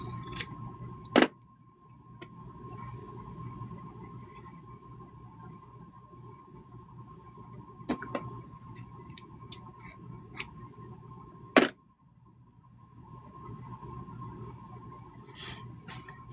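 Scissors cut through extra quilting fabric strips in a few sharp, isolated snips spread across a quiet room with a faint steady hum beneath.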